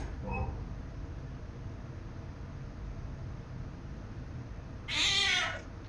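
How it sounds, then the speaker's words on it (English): A cat's meow bursts out as a jump scare in the horror game Nightmare of Decay: a loud, near yowl near the end, preceded by a faint short mew, over a steady hiss of background noise. "Cat scare."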